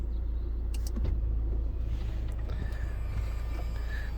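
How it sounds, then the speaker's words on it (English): On a 16-year-old car, the electric convertible roof closes with a steady motor whir and faint mechanical clicks over a constant low engine rumble. "let's see if this roof comes back."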